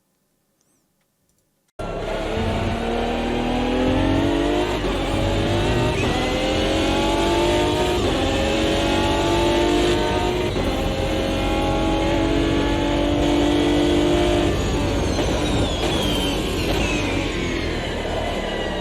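Modded car engine in the racing game Automobilista 2, a sustained loud engine note that rises and falls through revs, bright and aggressive, starting abruptly after a short silence, with no talking.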